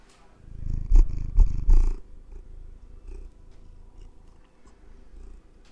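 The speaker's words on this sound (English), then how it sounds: "Oh, she's still purring, Heather." A cat purring close by, soft rhythmic rumbling, with a few louder bumps and handling noises at the start.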